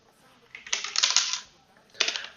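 Rapid clattering keystrokes on a faulty computer keyboard come in one dense burst of a second or so, then a shorter flurry after a pause, close and clear.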